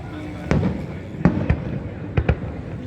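New Year fireworks go off at a hotel in Sriracha, Thailand, as several booming bursts at irregular intervals, two of them close together near the end, over a low murmur of background noise.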